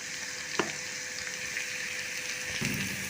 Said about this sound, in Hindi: मैं इसमें थोड़ा सा ये गरम मसाला का पेस्ट ऐड कर रही हूँ